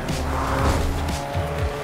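A car in Fortnite revs and skids, its tires squealing in repeated short screeches over a continuous engine roar, close and loud.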